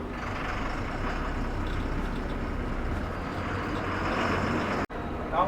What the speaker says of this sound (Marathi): चला आता ऑन टाईम आपली गाडी निघाली आहे बोरवली नॅन्सी कॉलनीमध्ये.